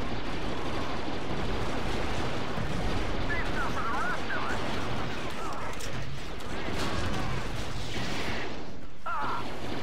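Dense gunfire fills a Star Wars Battlefront 2 mod battle on the snowcapped Galidraan forest map, a steady roar of blaster shots and combat noise with no pause and no voices.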